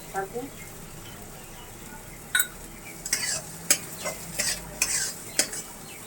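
Vegetables frying in a pan with a faint low sizzle, while a utensil scrapes and clacks against the metal in a series of sharp, irregular stirring strokes.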